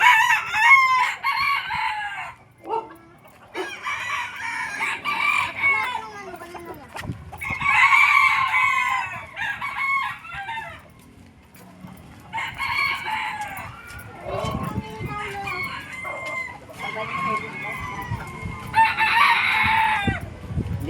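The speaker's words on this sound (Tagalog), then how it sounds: "pupunta naman tayo dito sa pinakamalaki daw na manok ni Boss Roel." Roosters crowing and hens clucking at a large poultry farm, several loud cock-a-doodle-doo calls in bursts close by, separated by short pauses with clucking and farm noise beneath.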